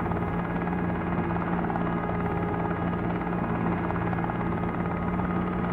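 A simulated helicopter flies near a yacht in the game Helicopter Simulator, its rotor and engine giving a loud, steady droning whir with an even throbbing hum throughout, no voices.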